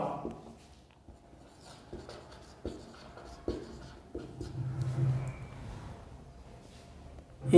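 Chalk or marker writing on a board during a maths geometry lesson, a series of soft scratchy strokes and taps in an irregular rhythm, fairly close and quiet, with faint room noise.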